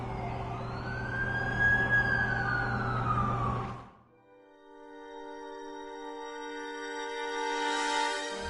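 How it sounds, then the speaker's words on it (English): An ambulance siren in the video game Spider-Man 2 on PS4 wails loudly in rising and falling sweeps for about four seconds, then cuts off abruptly as sustained tonal sound takes over. "That's the ambulance I called."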